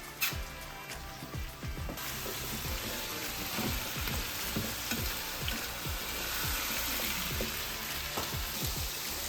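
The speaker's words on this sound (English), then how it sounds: "I've got the squash, the zucchini, the onions, the garlic going" Squash, zucchini, onions and garlic fry in a pan, a steady close sizzle with crackling pops throughout and occasional stirring scrapes, no talking.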